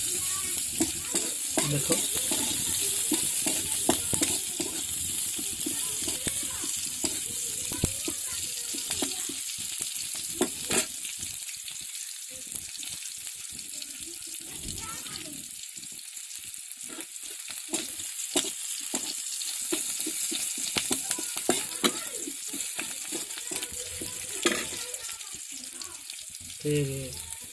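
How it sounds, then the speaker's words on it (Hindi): Chopped onion sizzles and fries in a pan in a village kitchen while being stirred, a steady crackling hiss with repeated scraping strokes throughout; a voice speaks briefly. "फिर प्याज पकाएंगे, कटा हुआ प्याज, फिर उसको थोड़ा ऐसे कर देंगे।"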